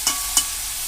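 Two brief scrapes of a spoon stirring mixed vegetable curry in a pan, with a faint sizzle running underneath throughout; no voices.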